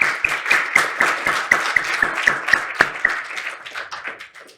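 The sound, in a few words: audience applause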